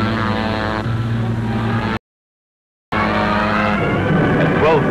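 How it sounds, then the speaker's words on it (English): Propeller-driven P-38 fighter aircraft engines drone loud and steady, broken by a sudden second of silence before the roar resumes. "12 brand new P-38s were being dispatched to intercept an invading force of unknown strength."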